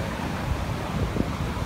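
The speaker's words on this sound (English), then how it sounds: "Waves are just smashing it" Ocean waves pounding an Australian beach in the evening, a continuous loud roaring wash of surf mixed with heavy wind buffeting the microphone, with no talk.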